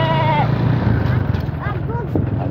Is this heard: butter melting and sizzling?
no